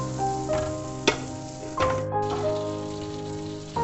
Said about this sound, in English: We wait for a butter to melt.